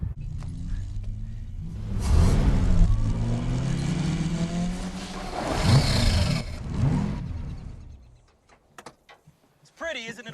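A supercharged, custom bright yellow Rolls Royce-like car engine revving in loud roaring swells that rise and fade twice, with a brief knock at the end.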